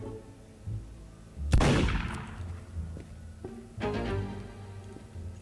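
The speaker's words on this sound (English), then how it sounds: "Bro, shooting people." A single loud gunshot from a video game rings out near the start, followed by a fainter second shot later, over low background game ambience.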